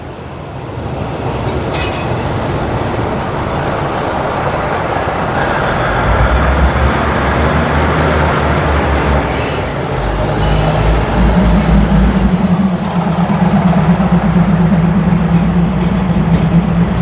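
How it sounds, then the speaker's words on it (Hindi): A train rolls into a railway market in South East Asia: a loud, building rumble of wheels and carriages, with occasional sharp high squeals and hisses layered over the heavy low drone. "तो ये ट्रेन आ रही है, मेरा ख्याल है कि यही जाएगी।"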